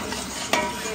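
Masala and onion are mixed in hot oil, giving a soft sizzling bed with one brief scraping stir in the middle, close and alone with no talk.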